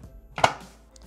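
A Thermomix blade chops spinach in its bowl, a brief loud whirring burst that rises sharply and then trails off, with no talking.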